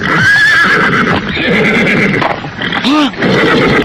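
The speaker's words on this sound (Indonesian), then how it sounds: "Kuda ini tiba-tiba saja berhenti ketakutan, Kakang." A frightened horse neighs loudly and close, a shrill whinny that rises and falls while someone speaks over it, with some hoof shuffling around it.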